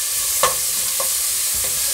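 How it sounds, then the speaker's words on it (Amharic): Onions frying in olive oil in a hot pot, stirred with a few distinct scrapes of a utensil over a steady, soft sizzle, with no talking. "አሁን ሽንኩርታችን ጠበስ ብላለች"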